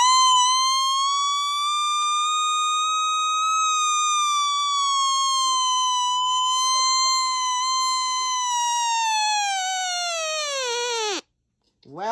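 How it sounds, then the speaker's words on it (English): A Feldstein 1997A siren sounds a single loud, steady wail with a rich harmonic whine that holds for about eleven seconds, then winds down sharply and stops. "Okay, so time for the alert test."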